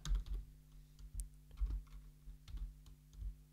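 Keys clatter on an English-layout computer keyboard in a 3D matchmove workflow, a fairly quiet run of irregular taps and thuds, close by, with no talking.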